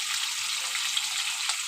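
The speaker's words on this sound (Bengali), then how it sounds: "ভালো করে কেটে ধুয়ে আমি এখন ভেজে নিচ্ছি" Cleaned, cut pieces of tilapia fish fry in hot oil, giving a steady, close, hissing sizzle with no voices.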